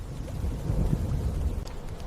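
A rainstorm with wind on the savanna at night, a steady broadband wash of falling rain and low gusting rumble, fairly close and unbroken throughout.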